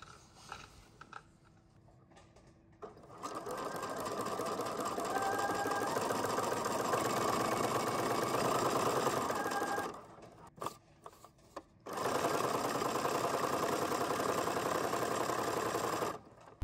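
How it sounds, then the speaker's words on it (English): A sewing machine runs in two long, steady, close bursts of fast mechanical whirring and clatter, with a short pause and a few brief stitches between them. "Try to fix this sewing machine so I can sew some pieces together."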